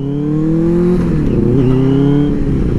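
A Benelli 600i motorcycle engine revs and drones loudly and steadily, its pitch rising then dipping and climbing again, close by and continuous with no talking.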